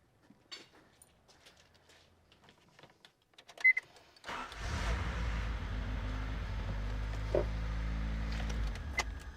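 A 1989 Honda Prelude engine, wheels off the ground, starts up after clicks and handling noises, then runs at a steady low idle with a constant rumble, close and fairly loud.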